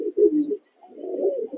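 A pigeon in a Lotan and Satin breeding loft gives two low, rolling coos close by, separated by a short pause.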